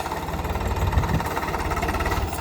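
A tractor engine idles steadily on a village farm after its load was emptied, a low, even rumble with a rhythmic throb close by and no talk over it.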